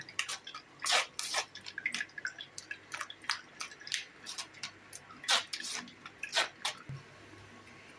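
Watermelon juice strained and dripping for a watermelon sarbath, with a steady run of irregular wet drips and small splashes falling close by, some louder than others, and no talk.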